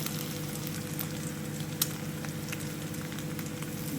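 A steady, quiet sizzle of an egg frying in a pan, with faint crackles and a low hum in the background.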